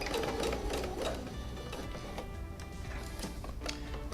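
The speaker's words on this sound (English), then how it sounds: "So I'm gonna start sewing." Sewing machine stitching a seam along the collar facing of a winter coat, a steady rapid mechanical whirr running continuously close by with faint ticking, no talking.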